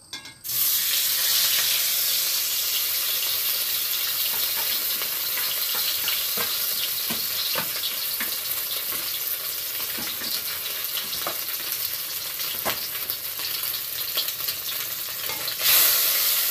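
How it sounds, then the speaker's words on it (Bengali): Fish fries in hot oil for a home-cooked lunch, a loud, continuous close-up sizzle with crackles and occasional pops throughout, no one talking. "চলো মাছটা ভেজে নিই।"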